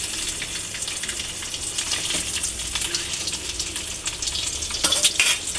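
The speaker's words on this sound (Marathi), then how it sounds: "याच्यामध्ये मी आता अंडी टाकते." Eggs frying in hot oil in a pan, a steady loud sizzle with occasional stirring scrapes and a brief louder crackle near the end.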